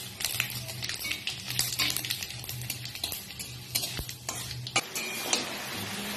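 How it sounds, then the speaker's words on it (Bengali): Panch phoron and two dried red chillies crackle and sizzle in hot oil, a steady close frying hiss with scattered sharp pops and the occasional clink of utensils throughout. "এবারে ওই তেলের মধ্যে দিয়ে দেব আমি পাঁচফোড়ন আর দুটো শুকনো লঙ্কা।"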